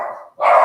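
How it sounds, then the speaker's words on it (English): Dogs at a home bark at neighbours arriving across the road, two loud close barks in quick succession, each sharp and full, with no talk. "guess what the dogs are barking for?"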